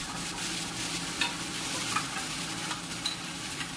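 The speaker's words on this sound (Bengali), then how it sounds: "চলে যাচ্ছে আদা রসুন বাটা।" Ginger garlic paste drops into hot oil in a pot for homemade chicken biryani with potatoes. A steady, close sizzle of frying carries on throughout, with a few light scrapes from stirring.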